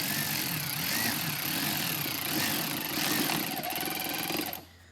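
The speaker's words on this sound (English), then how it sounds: "I have my very small electric ratchet, and it doesn't torque down very hard at all." A very small electric ratchet whirs and rattles while fastening parts during an engine air filter replacement on a Ferrari, a continuous close buzzing drone that cuts off abruptly at the end.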